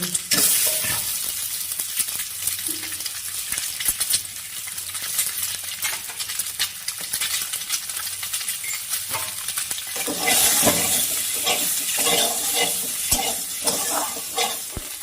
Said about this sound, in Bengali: ডিমগুলো ভেজে তুলে নিব।